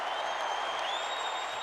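A big stadium crowd cheers and applauds at the 1990 AFL Grand Final presentation, Collingwood against Essendon, a dense steady roar of clapping and voices with no pause.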